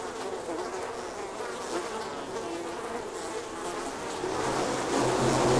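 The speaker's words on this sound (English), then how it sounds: "Africanized bees are much more aggressive than normal bees are." Africanized bees in the video game Mundaun make a dense, continuous buzzing swarm drone that holds steady and swells louder near the end, with no voices.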